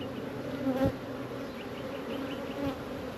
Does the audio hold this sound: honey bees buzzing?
yes